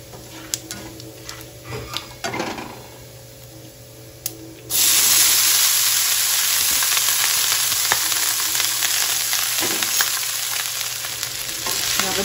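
Cooked rice stirred and fried in a pan for jeera rice: scattered spoon scrapes at first, then a sudden loud, steady sizzle that continues with occasional stirring clatter, no talking.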